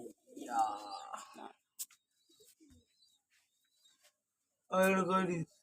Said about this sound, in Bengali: পায়রাটা ধরতে জপদের ঘরে ঢুক গেছে